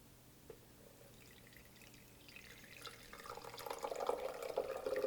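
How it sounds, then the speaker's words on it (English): Settled water is poured into a pre-filter for drinking water and trickles through, starting as faint dripping and building into a louder, close pouring splash, with no voices. "And that is filtering through quite quickly."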